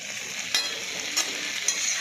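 Food frying in a pan with a steady, thin sizzle, broken by three short scraping stirs spaced evenly apart, close and moderately quiet, with no voices.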